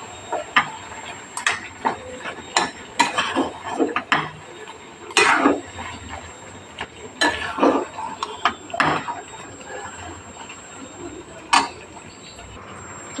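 A spoon scraping and tapping in a pan as mutton curry is stirred and fried in oil, giving irregular sharp clicks and knocks over a quiet background.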